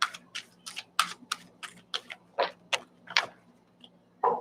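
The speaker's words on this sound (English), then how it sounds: "3 shuffles. Second shuffle." Crisp riffling and snapping bursts in quick succession, about a dozen, as a deck of cards is shuffled close by with brief pauses.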